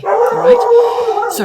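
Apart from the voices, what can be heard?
dogs barking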